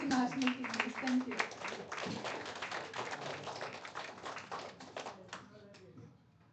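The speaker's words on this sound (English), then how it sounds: "A round of applause for our Seattle chapter team and also national team, please." Applause from an audience at an ITServe Alliance national event, scattered hand claps under a voice speaking over them, fading out toward the end.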